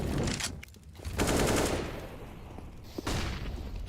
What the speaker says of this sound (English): Rops is the man with the gun, the only armor, the M4, and he's brought down to half from that barrage